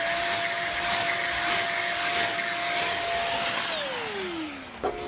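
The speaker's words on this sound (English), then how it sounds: "I think I'm going to get the vacuum out and clean, because it's there's a bunch of grounds like right in the carpet" A vacuum cleaner runs steadily up close on carpet littered with coffee grounds, a loud continuous whine that winds down near the end as the motor is switched off.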